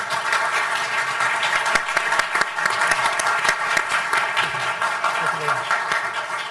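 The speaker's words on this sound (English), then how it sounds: "ask for a round of applause to them to finish it" A conference audience applauds the speakers steadily with sustained clapping, and a few voices are mixed into the applause.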